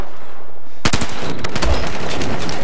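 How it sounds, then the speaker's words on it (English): A burst-fire gun shooting in Battlefield 4 Gun Master mode: after a quiet start, loud rapid bursts of gunfire crack out close up and continue to the end. "Oh shit, this is a burst fire weapon."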